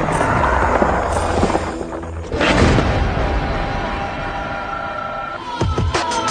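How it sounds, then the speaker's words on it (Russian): Blasts from the BFG-9000 in Doom 3: two loud, broad roaring bursts a few seconds apart, rising out of a dense, rumbling game soundscape with no speech. "настоящая переносная катастрофа BFG-9000 из Doom 3"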